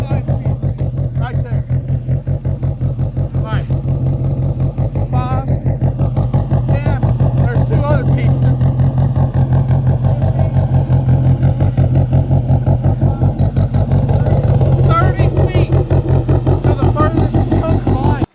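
A Polaris RZR side-by-side fitted with ice tires runs steadily and loudly throughout, a dense pulsing engine drone with occasional clatter and rising revs, while people talk over it.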